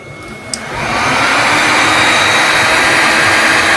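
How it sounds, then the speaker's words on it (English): A high heat gun switches on beside a spindle cable connector, rising within a second into a loud, steady, close rushing roar of blowing air. "Now what I'm going to do is switch over to a high heat gun."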